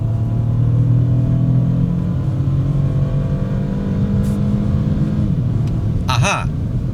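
A 2025 BMW 218 Gran Coupe in Malaysia accelerating, its engine holding a steady mid-pitched drone that builds and rumbles at close range for several seconds, with a brief sharper clatter near the end and no talking.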